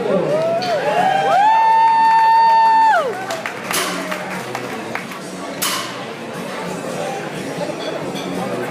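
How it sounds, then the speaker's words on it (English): Crowd at a USPA strongman Pro-Am competition applauds and cheers, loud at first with a held whistle-like tone over the noise, then settling into steadier clapping and chatter. "Let's give him a big round of applause"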